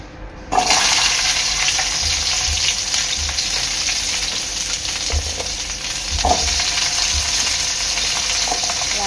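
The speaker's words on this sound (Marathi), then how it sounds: "तेल चांगलं गरम झालेलं आहे। सर्वप्रथम मी टाकते फ्लावर" Cauliflower florets drop into hot oil with a sudden loud burst of sizzling that settles into a steady, dense crackle, with a few spatula scrapes and stirs, for a vegetable Kolhapuri curry.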